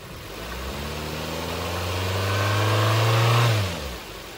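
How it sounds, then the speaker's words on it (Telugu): A Maruti Suzuki Baleno Alpha petrol automatic's engine revs up from idle, holds a loud, rising drone for about two seconds, then drops quickly back to a low idle. No one talks over it. "సార్, కొంచెం ఎక్సలెటర్ ఇవ్వరా."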